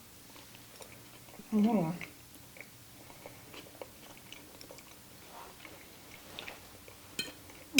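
Someone eats a forkful of taco spaghetti up close, letting out a short hummed sound of enjoyment before soft, faint chewing and small mouth clicks carry on quietly.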